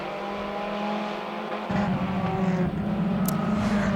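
Race cars circle a racetrack with a continuous, loud engine roar. The roar swells as the pack passes nearer partway through, then holds a heavy, droning rumble.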